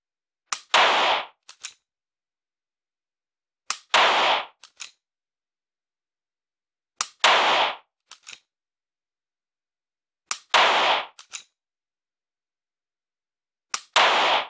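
Dry-fire trigger clicks during G-Sight laser training: sharp, loud snaps come in five evenly spaced groups, each a strong click trailed by one or two fainter ones, with silence between.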